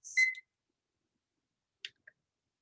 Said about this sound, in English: I'm going to put my timer on for another 2 minutes.